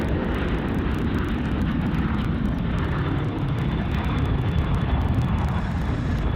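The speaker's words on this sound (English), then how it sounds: "Velocity 738 now rolling and taking off, runway 34 right." A Velocity airliner rolls and takes off from runway 34 right at Sydney Airport, its jet engines giving a continuous, loud, broadband roar that holds steady for several seconds with no talking.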